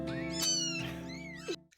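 Foster kittens meow loudly and close by, a quick run of three or four high, drawn-out cries within a couple of seconds, with no talking.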